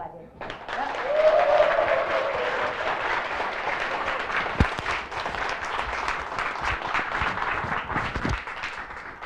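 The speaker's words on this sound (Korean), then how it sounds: "큰 박수로 맞이해주세요." Audience giving a large round of applause to welcome a company president to the stage at a Korean business presentation, sustained dense clapping from a crowd with a few louder individual claps.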